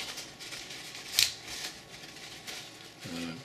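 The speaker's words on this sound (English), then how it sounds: "stick a paper towel right down the bottom here like this" A paper towel is pushed down into the bottom of a Cabot Guns S103 pistol during cleaning after range use. It makes soft, close scratchy rustles with one sharper crackle midway, and a faint low voice starts at the end.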